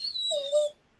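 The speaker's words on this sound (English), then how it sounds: "my dog hears your dog whining" A dog whines in a high, thin whimper that slides downward and then gives a shorter lower moan before falling silent, near and fairly clear, with no talking.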